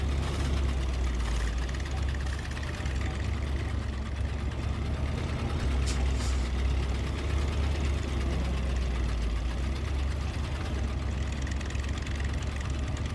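A tractor engine in the SnowRunner game, hauling through mud and water, drones with a steady low rumble, loud and continuous, with a faint knocking texture and no pauses.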